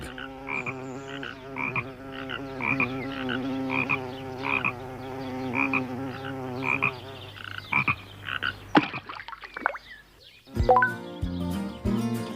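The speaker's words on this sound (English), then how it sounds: "Tom saw a frog in the pond" Cartoon frog at a pond croaking in a regular, evenly spaced series of loud rhythmic croaks, followed by a few sharper calls and a brief musical sting at the end.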